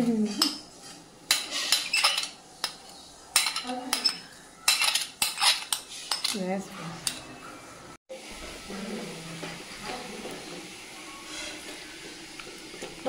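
Boiled papaya chutney is stirred in a pan, a spoon scraping and knocking against the metal in irregular bursts, then a quieter stretch of soft simmering hiss.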